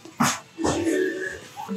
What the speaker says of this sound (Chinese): 哈士奇